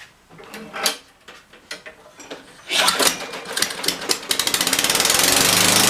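A Craftsman 2-cycle engine with its muffler missing sputters through a few rough bursts, then catches and runs loud and close, a harsh rapid rattling buzz that speeds into a steady pulsing drone.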